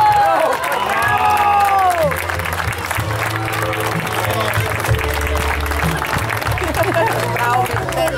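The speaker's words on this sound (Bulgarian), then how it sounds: "Вашите силни аплодисменти за един от голмайсторите в финала, а именно с номер 8 Виктор Спартаки!" A crowd at a mini football cup award ceremony applauds and cheers a goal scorer, with loud continuous clapping and crowd noise beneath an announcer's voice and music.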